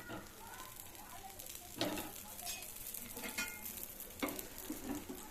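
A dosa fries in oil on a pan with a soft, steady sizzle and several louder bursts of spattering and scraping, close by.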